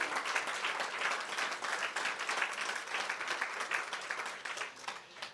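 Audience applause at a ten-year review launch event, steady dense clapping from a crowd that holds throughout, moderately loud and without pauses.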